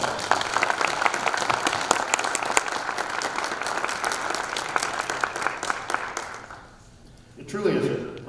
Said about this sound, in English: So I would ask all of you, for his efforts, to please give Judge Clifton a round of applause.